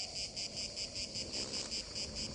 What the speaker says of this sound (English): Just listen to those grasshoppers.